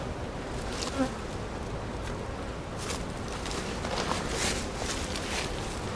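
Honeybees from a newly hived swarm in North Carolina buzz steadily around the front entrance of the hive, a dense continuous drone close by with a few faint footsteps or rustles and no talk.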